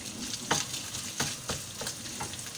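Ground pork sautés in hot oil for a simple spaghetti sauce, giving a steady close sizzle with several sharp scraping stirs at regular intervals.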